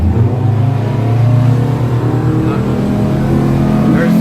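A Hewescraft Ocean Pro boat's outboard engine throttles up hard from idle in gear, trimmed fully down, with a loud steady roar and strong low drone building as the hull climbs toward planing.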